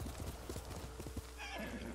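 A horse in Ghost of Tsushima gallops in quick hoofbeats, then lets out a loud, drawn-out neigh in the second half. A voice is faintly present.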